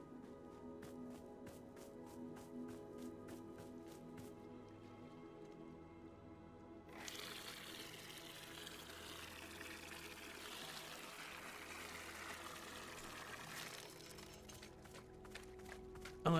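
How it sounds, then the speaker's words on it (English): A watering can pours water in the video game Wanderstop, a steady trickling stream that swells into a fuller, louder pour midway before easing off, heard over soft background music. "Let's grab our watering can."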